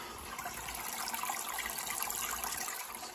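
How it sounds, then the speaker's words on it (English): An aquarium tank pump moving water in a home fish tank with white sand, a continuous soft gushing and trickling that holds steady throughout. "It's pumping water."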